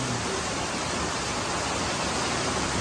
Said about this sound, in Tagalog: Ang lakas ng ulan. Ang lakas din ng hangin.